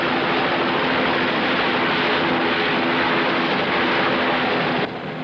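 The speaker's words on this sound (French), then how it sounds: "Vous apercevez l'hélicoptère des pompiers qui va se poser pour prendre une équipe d'infirmiers" A fire brigade helicopter comes down to land on the roof of a tall building, its engine and rotors making a loud continuous roar that holds steady before dropping slightly near the end.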